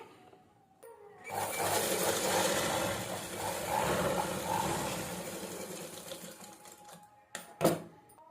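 A sewing machine sews a normal straight stitch at stitch length 1.5, whirring steadily and close for about six seconds, then stopping, followed by a brief sharp clack.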